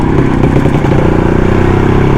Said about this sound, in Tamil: 1967 மாடல் ஜாவா தான் ஓட்ட போகிறோம்.